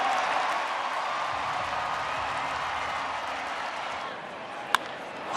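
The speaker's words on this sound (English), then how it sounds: "listen to the crowd" A baseball stadium crowd roars and cheers steadily after a leaping home-run-robbing catch, a dense sustained ovation filling the air with one sharp clap-like crack near the end.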